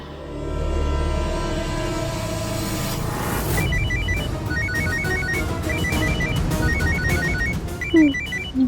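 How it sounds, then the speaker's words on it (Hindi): A mobile phone ringtone plays a repeating electronic melody, fairly loud and close, following a swelling musical passage and a brief whoosh. "किसी का फोन बजा ना?"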